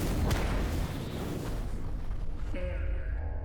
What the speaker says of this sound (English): the core of the reactor exploded 4 seconds after touchdown